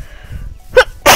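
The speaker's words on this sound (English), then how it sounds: "I had to sneeze." A single sharp sneeze bursts out near the end, preceded by a short inhaled catch of breath, close and loud against a quiet background.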